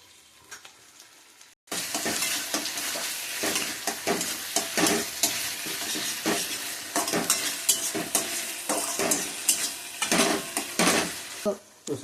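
Onions fry with tomato sauce in a pan for Manchurian, a dense loud sizzle that starts abruptly after near silence, with frequent scraping stirs of a utensil against the pan and no voices.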